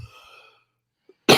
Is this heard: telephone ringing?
no